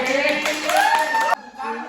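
A group claps a rhythmic five-count clapping pattern in a mentor teaching session, the claps close and sharp over about a second and a half before cutting off, with voices around them.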